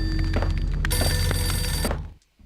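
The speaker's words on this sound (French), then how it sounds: "Le téléphone sonne." A telephone rings in the Max Payne video game, a bright, loud electronic ring filling most of the moment before it cuts off abruptly into near silence.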